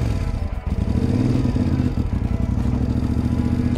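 Motorcycle engine running close and loud with a steady, throbbing idle and a rough rhythmic pulse, with a brief dip early on before it settles back into a constant drone.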